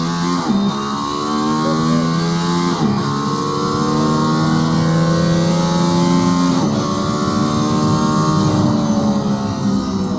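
A Mercedes-AMG ONE accelerates hard out of the final corner on a track, its engine note rising loudly through several gear changes in a continuous, close roar.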